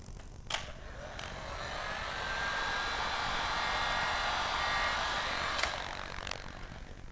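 Steady whirring airflow of a heat gun warming wrap film on a Mercedes door molding, holding at an even level throughout with a few brief clicks near the start and end.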